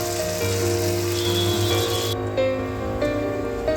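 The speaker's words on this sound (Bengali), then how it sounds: "এখন কুমড়ি ভাজবো, কুমড়ি দিয়ে দিলাম।" Vegetable fritters of pumpkin, cauliflower and aubergine deep-fry in hot oil, giving a steady, close hiss and crackle that runs through the whole stretch with no talk over it.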